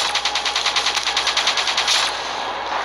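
In Call of Duty Black Ops 3, a minigun fires a continuous rapid rattling burst, loud and close, for about two seconds before it winds down.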